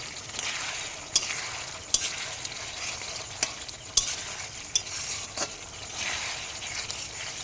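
Potatoes frying in a pan for a vegetarian aloo dum, a soft steady sizzle with occasional sharp clinks and scrapes of stirring.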